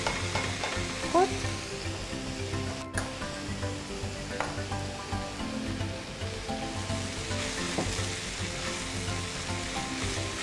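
Precooked meat frying in a pan, a steady close sizzle with occasional stirring scrapes and pops, continuous throughout with no talk.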